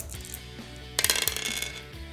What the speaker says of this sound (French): Il lance ensuite les 3 dés.